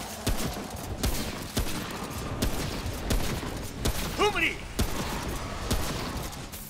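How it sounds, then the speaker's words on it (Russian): Rapid-fire weapon shots in the game Remnant: From the Ashes come as sharp, irregular bursts, mixed with creature screeches and other game noise, while people talk over it. "Хорошо, что у нас скорострельное с вами оружие."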